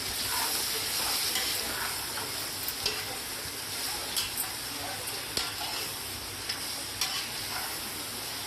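Mutton curry sizzles steadily in a pan, with constant frying hiss and occasional soft clicks and scrapes of stirring, close and moderately loud.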